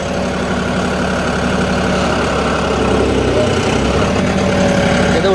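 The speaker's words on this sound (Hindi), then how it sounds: "अपने पास 4-व्हील ट्रैक्टर है तो भाई अपन इसमें कुदा सकते हैं" A four-wheel-drive tractor engine drives through a big pit, giving a loud, steady low diesel drone that holds level from start to finish, with possible faint talk underneath.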